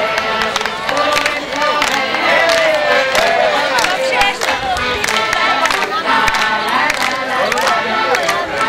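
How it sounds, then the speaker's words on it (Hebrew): Crowd applause and cheering at a 1995 Shavuot festival ceremony in Sdot Yam, sustained dense clapping with shouts and a lively, festive babble of voices throughout. "מחיאות כפיים."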